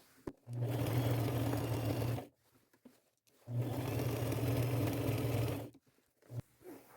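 A sewing machine runs a wide zigzag stitch through denim in two long, even bursts of fast mechanical whirring, separated by a short pause, with no talking.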